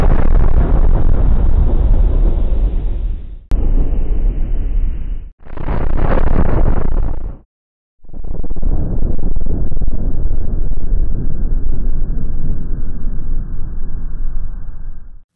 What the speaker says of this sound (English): this location experienced a tragic fireworks accident that resulted in a devastating explosion at this fireworks factory